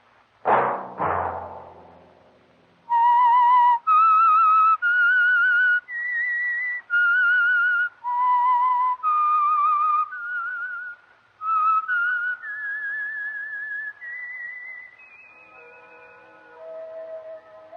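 A clear, close whistled melody of about a dozen separate notes wanders up and down, preceded by two soft thumps, ending on a lower sustained tone.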